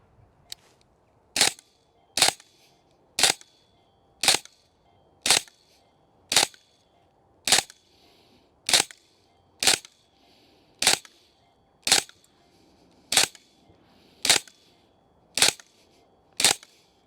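Airsoft gun fitted with a Holy Warrior red dot optic, fired as roughly sixteen sharp, loud single shots at a steady pace of about one per second, with quiet gaps between them.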